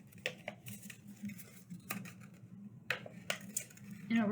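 Scissors snipping a hole through a paper plate stacked for a Sunday school craft: soft, close cutting snips and paper rustles in an irregular rhythm over a low background hum.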